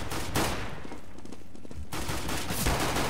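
Loud gunshots crack in the video game Counter-Strike: Global Offensive, with rapid automatic fire at the start and end around a brief quieter gap.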